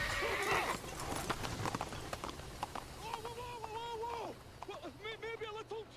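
Horse hooves clip-clopping in a steady trot with a loud neigh in the middle, from a horse-drawn carriage in the Assassin's Creed video game, with other sounds of the game around them.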